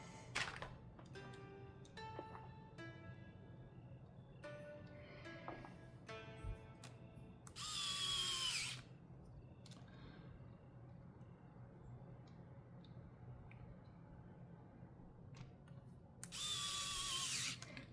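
Small screws are backed out of a Nintendo Switch Lite during disassembly, with soft clicks and ticks plus two brief louder whirring bursts, all quiet and close.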